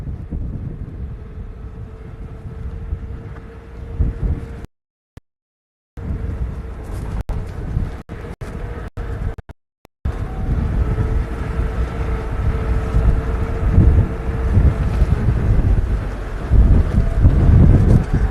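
Strong wind buffeting a microphone outdoors during a safari drive, a loud low roaring rumble with gusts rising and falling, broken by a few brief dropouts.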